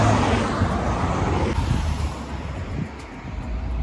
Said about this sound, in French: Et là, je suis déjà sur la route, il y a des voitures qui passent